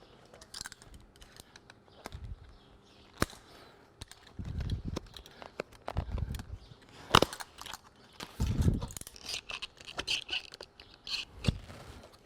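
Colonial casing molding is cut back at the lock with a hand tool, giving scattered close scraping and crunching cuts with sharp clicks and soft knocks, fairly quiet and irregular.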